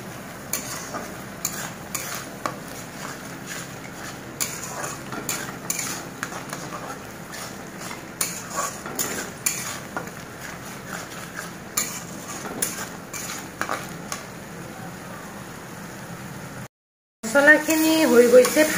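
Spices, peas and potatoes frying in a pan, a soft continuous sizzle broken by the scrape and clink of a spoon stirring, fairly quiet, with a louder clatter near the end.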